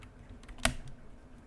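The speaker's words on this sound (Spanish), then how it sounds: "un teclado mecánico bueno y barato." A single sharp keystroke on an Akko 5075 mechanical keyboard, one crisp click with faint softer taps around it in a quiet room.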